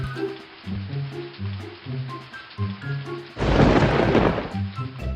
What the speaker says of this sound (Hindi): बिजली की कड़कड़ाहट के साथ बारिश भी शुरू हो गई।